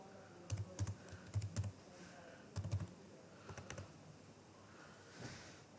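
Computer keyboard keys clatter in quick bursts of typing separated by short pauses, close and fairly quiet, as text is entered into a login field; no one speaks.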